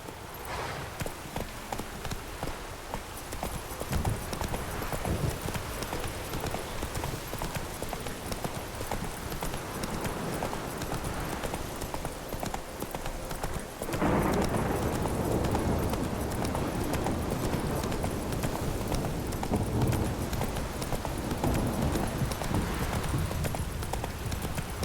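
A horse gallops in The Witcher 3 video game: continuous rapid clip-clop of hooves at close range, steady and loud throughout, joined by a rain-like hiss and briefly louder after the midpoint.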